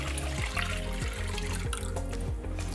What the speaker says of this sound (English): Now in goes that dal and water mixture, that slurry that we made. It goes into here.